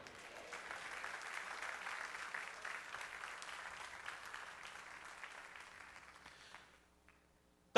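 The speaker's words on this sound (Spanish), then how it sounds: "¿Cuántos le dan un aplauso?" Church congregation applauding during a sermon, a sustained burst of many hands clapping at moderate volume that gradually thins and fades out, ending in near silence.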